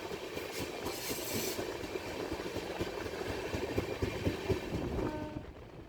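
The 11097 Pune–Ernakulam express runs on rails past the Ghorpuri yard and Pune diesel loco shed, a steady rumble with rhythmic wheel clatter from inside the coach that fades near the end.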